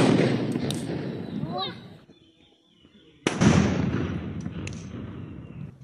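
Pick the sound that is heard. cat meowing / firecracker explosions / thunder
firecracker explosions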